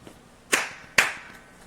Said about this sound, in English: You're supposed to single clap to sync the audio